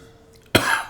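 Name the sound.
cough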